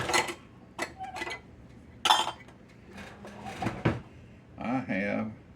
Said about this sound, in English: Let me grab a spoon here.